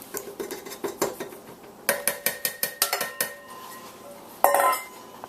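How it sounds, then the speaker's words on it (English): Utensil clanks against a bowl as flour is mixed into a cream mixture, quick rhythmic knocks and clinks in bursts, close and clear, ending in a louder scrape. "and mix that into the cream mixture"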